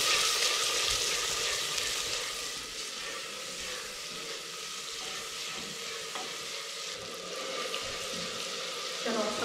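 Cauliflower and other vegetables sizzle in a clay handi pot with a steady, close hiss of frying and occasional light stirring clatter throughout.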